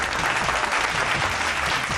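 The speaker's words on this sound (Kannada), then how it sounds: "ಚಪ್ಪಾಳೆ" A studio audience on a Kannada TV game show breaks into dense, steady applause, many hands clapping together throughout.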